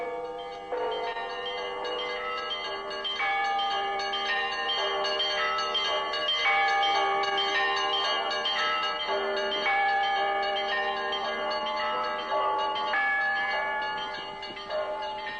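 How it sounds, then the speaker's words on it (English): Bells ring from the Russian Orthodox bell tower known as the Russian Candle in Jerusalem, layered peals and clangs overlapping in a steady, resonant stream with no talk. "From the tallest bell tower in Jerusalem, known as the Russian Candle, Sister Natalia calls the nuns to their morn"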